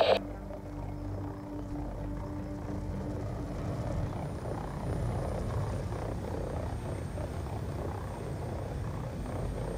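A dummy drone hovers in the Black Ops 2 video game, a steady, close rotor-like drone with low rumble and a faint high whine holding level throughout.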